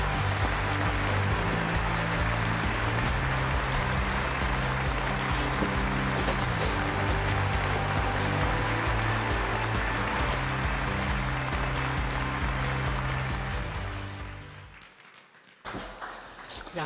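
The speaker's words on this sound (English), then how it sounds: "큰 박수 부탁드립니다." An audience applauds steadily and loudly as a coffee expert comes on stage for a lecture at an international conference, the clapping fading near the end.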